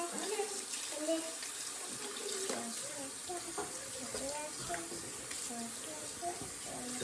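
Tap water runs steadily into a kitchen sink as vegetables are washed. The flow is a continuous hiss with soft splashing and clatter as the produce is handled, and chatter can be heard faintly underneath.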